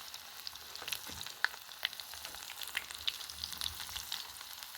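Zucchini fries frying in a cast iron pan, giving a close, steady sizzle of hot oil with sharp pops and crackles scattered through it and no voices.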